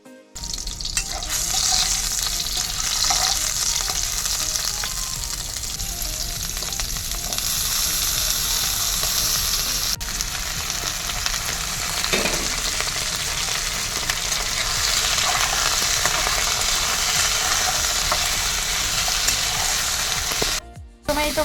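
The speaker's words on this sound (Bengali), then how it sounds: "শুক্তো দিয়েই শুরু করছি। সবজি ভাজা, শুক্তো সবজিগুলো ভেজে নিই।" Vegetables for shukto fry in oil, giving a loud, steady sizzle with stirring that runs close and continuous for about twenty seconds.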